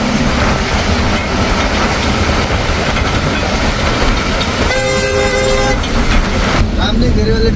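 A train at Ajmer railway station rumbles loudly and steadily nearby with rail clatter, and a horn toots briefly partway through, under a continuous wash of noise.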